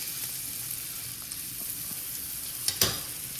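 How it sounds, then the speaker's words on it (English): An American Wagyu steak searing in a pan: a steady close sizzle throughout, with a brief louder crackle and spatter near the end and no talk. "And it's really starting to get a nice sear on it."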